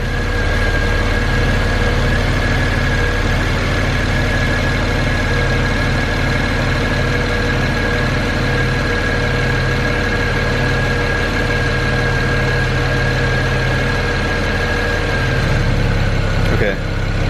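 A BMW N54 engine idles steadily in a car during warm-up, a continuous low hum with a faint high whine throughout, swelling briefly near the end as the idle shifts.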